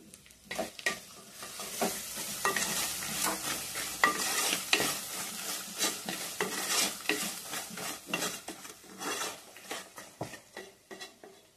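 Dry meat masala curry fries in a pan while being stirred, a close sizzle broken by repeated scraping strokes of a spoon against the pan, irregular and continuous with no voices.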